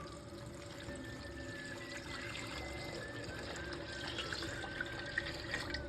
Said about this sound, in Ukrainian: Каструлю наливаємо воду, трішки не доливаючи до верху банок.